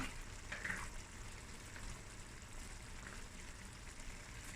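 A pot of cabbage frikkadel with butter and nutmeg simmering on the stove, giving a faint, steady low bubbling and sizzle with no talking.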